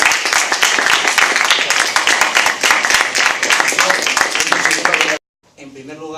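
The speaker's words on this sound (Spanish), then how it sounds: "habría que dar un aplauso enorme a..." Enormous applause for a speaker at a young writers' literature gathering, dense continuous clapping filling the room for about five seconds before cutting off, followed by a brief voice.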